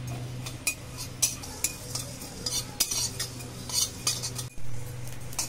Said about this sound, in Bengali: এখানে নিয়েছি গোটা মৌরি, এখানে নিয়েছি গোটা ধনে, এখানে নিয়েছি গোটা জিরে, খুব ভালো করে ভেজে নেব।